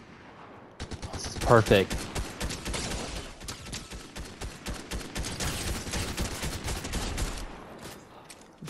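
Rapid gunfire from a battle royale video game match, a dense run of sharp shots and bursts running almost continuously, with a player's voice talking briefly over it.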